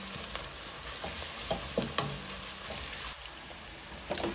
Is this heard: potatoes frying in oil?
yes